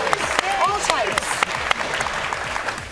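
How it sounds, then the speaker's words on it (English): Studio audience applauds and cheers on a comedy talk show, a steady dense wash of clapping for about three seconds with a brief voice rising over it near the start. "Big round of applause."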